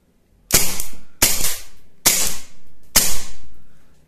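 A Hellraiser P92 CO2 air pistol, a Beretta-style 9 mm replica, fires four sharp, loud, close shots about a second apart. Each crack trails off in a brief hiss, with no talking.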